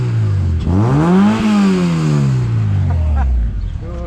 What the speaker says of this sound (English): I'll rev it so you can hear it from this side.